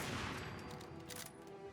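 A burst of rapid gunfire in Fallout 4, several shots fired in quick succession at fairly close range, fading to a softer rattle over under two seconds with no talk.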